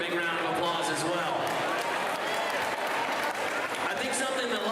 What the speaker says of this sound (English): Give those other directors a big round of applause as well.